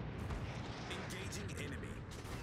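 Heavy incoming fire striking a USS warship in the naval battle game World of Warships, a dense, continuous roar of blasts and rumble with no pause across the short stretch, with a voice barely audible underneath.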